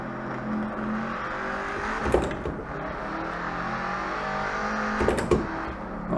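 Shelby Cobra 427 S/C on the Nürburgring, its big V8 rumbling steadily in first gear with rising throttle bursts around two and five seconds, close and continuous, no talk over it.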